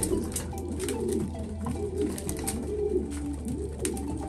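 Racing pigeons, mother birds in a loft, coo in repeated rolling phrases that overlap, close and steady throughout with no talking.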